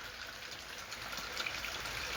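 Rainwater falls and leaks into a small shelter built to house Ganesh idols, a faint, steady hiss of rain and trickling water with no pauses.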